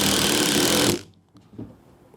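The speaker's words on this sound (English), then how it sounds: "we're going to try to drill a hole through it, right like this" A loud, steady drill whines and grinds through a metal pipe for about a second, then cuts off, leaving faint clicks and a brief low rattle.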